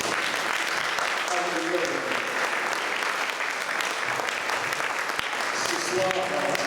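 A church congregation bursts into sustained applause, a dense, loud wash of clapping hands that fills the hall from start to finish, with voices faintly mixed in.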